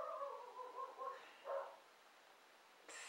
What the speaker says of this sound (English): There is a dog barking currently, and if you can hear it, I apologise.